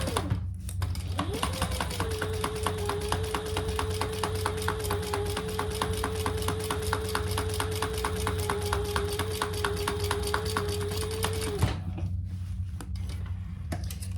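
A sewing machine top stitches a hip bag, a fast, steady mechanical rattle of needle strokes running evenly for about ten seconds after a brief start, then stopping abruptly, close and clear.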